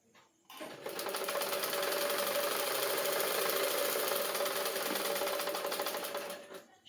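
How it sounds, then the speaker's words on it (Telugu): A sewing machine runs in one continuous, close, steady burst of about six seconds, stitching a double seam at the shoulder joint of a blouse. "shoulder double joint double stitching చేసుకోవాలండి"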